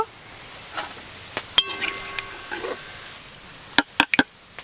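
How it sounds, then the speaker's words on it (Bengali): Onions fried golden brown in oil for chicken biryani, a soft sizzle punctuated by sharp metallic clinks and scrapes of a spatula against the pan, with no talk. "পেঁয়াজগুলো কিন্তু একদম ভাজা হয়ে গোল্ডেন ব্রাউন কালার হয়ে গেছে, তেল থেকে ছেঁকে তুলে নেব"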